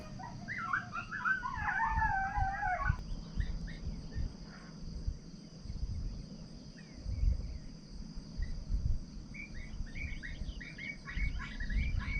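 Coyote pup yips and howls play from an electronic caller during a coyote hunt, wavering high cries at the start and fainter yips later, over steady chirping crickets outdoors.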